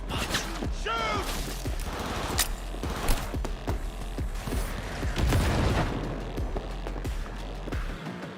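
Gunfire in a Cyberpunk 2077 firefight: scattered sharp shots and booms crack over a busy, dense game soundscape with mechanical clatter, steady throughout at moderate loudness.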